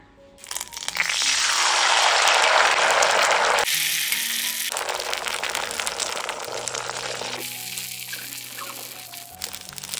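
Batter poured into a coconut-oil-brushed pan over a high flame sizzles for an Iftar snack. It bursts into a loud, close hiss that swells quickly, then settles into a steady, slightly quieter frying crackle with no talking.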